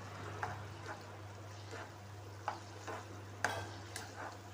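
Soft scraping taps recur every second or so as a spoon stirs eggplant curry in a pan, over a low hum, fairly quiet.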